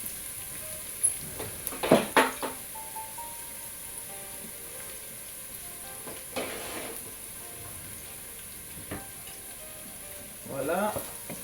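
Onions frying gently in red palm oil, a faint soft sizzle under occasional utensil knocks and stirring scrapes, with a few brief voice sounds nearby.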